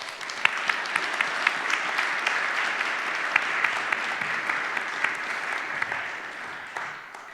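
A conference audience at a morning panel forum applauds to welcome a panelist, steady clapping from many hands that holds for several seconds and tapers off at the end.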